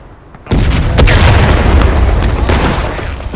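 Artillery fire in a Civil War strategy video game, set in the Tennessee River campaign: a sudden loud boom after a quiet start, followed by a sustained rumbling roar with a second blast around the one-second mark.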